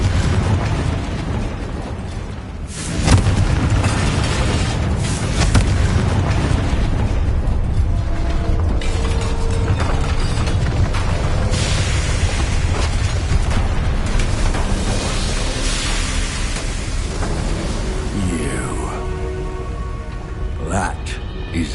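A Confringo fire spell from Hogwarts Legacy bursts with a loud explosive blast, then rumbling debris and crackling keep the noise dense and sustained for about twenty seconds.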